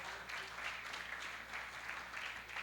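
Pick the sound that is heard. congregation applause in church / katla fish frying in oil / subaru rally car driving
congregation applause in church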